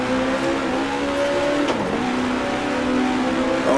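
A 1966 Grand Prix car engine in the Grand Prix Legends racing game holds a steady, loud drone under a light throttle, with a brief dip and pitch change midway, running alone without talk.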